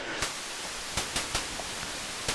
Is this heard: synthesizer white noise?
yes